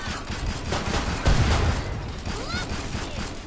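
Rapid gunfire in Killing Floor 2 during endless-mode gameplay, dense bursts of shots and mechanical clatter with a heavier boom in the middle, while a voice talks over the action.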